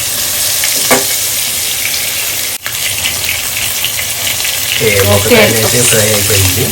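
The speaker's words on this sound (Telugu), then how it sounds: "ఇది రెండు వైపులా మంచి క్రిస్పీ అయ్యేంత వరకు ఫ్రై చేసుకోవాలి" Fish pieces fry until crispy in hot oil for fish biryani, a steady close sizzle with a sharp clatter partway through, and a voice talks over the frying near the end.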